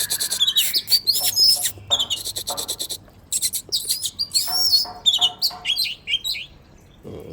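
A Warok-type kacer, an oriental magpie-robin, sings nearby in bright, varied phrases of whistles, chirps and rapid trills, broken by short pauses, with no talking over it.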